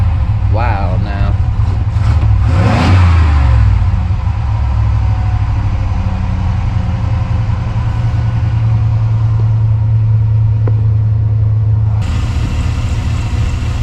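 An old truck called Rusty, running low on fuel, idles with a steady low engine rumble that swells briefly as it revs, continuous and close throughout, with faint voices at moments.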